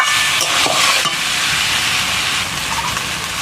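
Young jackfruit with turmeric sautéing in a pan, a steady loud sizzling hiss with stirring scrapes near the start and a few brief clatters, no voices.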